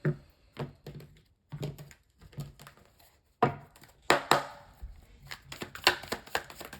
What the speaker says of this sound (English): One more shuffle. Let's cut up the deck